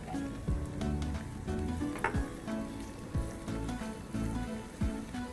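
Half a cup of finely chopped onion with green chillies sautéing in a pan for garlic dal khichdi, a steady soft sizzle broken by occasional scraping stirs.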